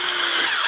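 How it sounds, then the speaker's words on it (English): A power drill runs steadily while driving screws into the corner brackets of a Flamaker futon sofa bed, a continuous whirring motor tone held for a short burst with no pauses. "we are going to need some kind of power drill for this one"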